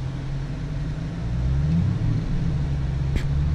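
A car creeps through slush, ice and snow, a steady low engine rumble and road noise rising slightly partway through, with a brief sharp knock near the end.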